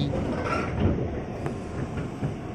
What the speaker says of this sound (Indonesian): Tuh, lihat ada KRL lagi kan.